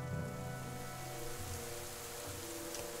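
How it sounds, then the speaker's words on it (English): Rain falls steadily in the video game The Banner Saga 2, an even hiss of rain on surfaces that continues without pause, with no speech over it. "of course it started to rain"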